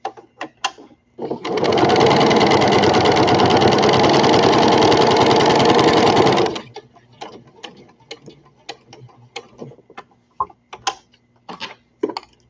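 Sewing machine sewing a baby drool scarf, one loud continuous whirring run of about five seconds up close, followed by scattered clicks and fabric handling sounds.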